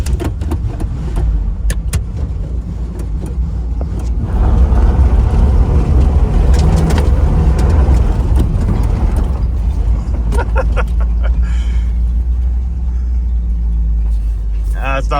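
Unrestored Pontiac Trans Am driven through gravel, a steady loud engine rumble with a rise in the middle as the car fishtails, plus scattered clicks and rattles; a voice talks briefly.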